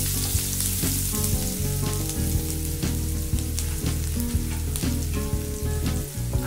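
Asafoetida and finely chopped onion fry in hot oil for Maharashtrian varan dal, a loud, continuous close-up sizzle with frequent crackles and stirring clinks.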